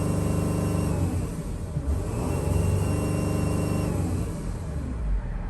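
A faulty turbocharged van engine accelerates with a steady rumbling drone and a faint high whistle riding above it, loud and continuous at close range.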